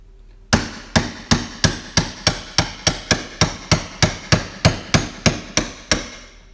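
A hammer knocks a gudgeon pin out of an RB25 engine piston with about sixteen sharp, evenly spaced metallic strikes, loud and close, with no talking.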